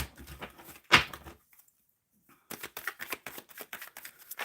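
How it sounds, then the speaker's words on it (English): Tarot cards are shuffled in quick papery riffles and bursts, with a snap near the start, a short pause, then a run of rapid card flicks close to the listener. "Shuffling for the collective, Spirit."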